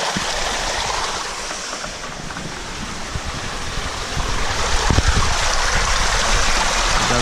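Water cascades from a shower-tower filter into a 25,000-gallon koi pond, a loud, continuous rushing splash that swells slightly toward the end, with no voices.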